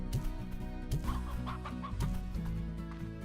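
Painted hens in the Slime Rancher video game cluck repeatedly at a farm coop, a steady chorus of short clucks over a low background drone, with no talking.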